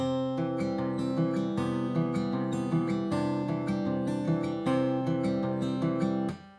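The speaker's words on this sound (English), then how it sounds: "they use this pattern on the middle 4 strings on, and it sounds like this." An acoustic guitar plays a steady Travis-picking pattern, alternating bass notes under ringing higher strings, close and clear, ending as the notes fade.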